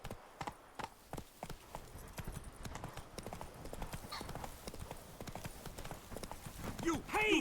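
Hooves of Roach, a horse in The Witcher 3, clip-clopping in a quick, irregular rhythm, with a brief whinny and a voice talking over them near the end.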